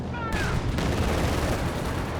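A strafing run in Company of Heroes 2 fires a dense burst of gunfire, loud and continuous for about two seconds under busy battle noise.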